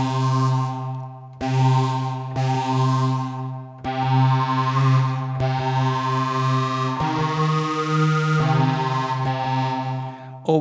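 Phase 84 phase distortion synthesizer on an iPad, a sustained buzzy tone whose timbre sweeps and jumps in fast repeating cycles, with abrupt pitch and texture changes, loud and alone.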